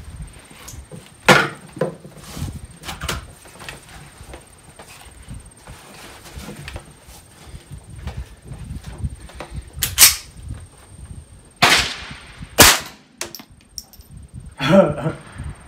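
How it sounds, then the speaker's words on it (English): Grey Birch Fusion 10/22 rifle, a .22 semi-auto in a foundation chassis, firing its first shots: about half a dozen sharp, irregularly spaced cracks over faint background rustle and handling noise. "very first shots out of the new Grey Birch Fusion with the foundation chassis"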